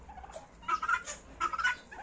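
A turkey gobbles twice in quick bursts, a rattling warble of calls separated by a short pause, fairly close and clear.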